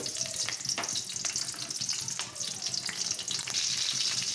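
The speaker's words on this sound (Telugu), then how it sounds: "కొద్దిగా ఆయిల్ అయితే వేసాను తర్వాత వచ్చేసి ఎర్రగడ్డలు కరివేపాకు రెండు ఒకటే పారైతే వేసేసుకున్నాను" Onions and curry leaves frying in a little oil in a pot, a steady close sizzle and crackle running throughout with no talk.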